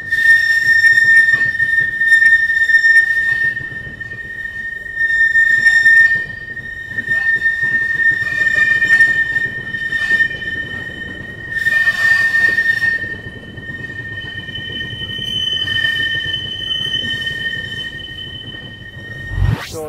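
The Balaji Express, train 16352, pulls away with a sustained high whistle over rumbling wagons, rhythmic wheel clatter and bursts of squealing wheels that swell and ease across the stretch, loud and close.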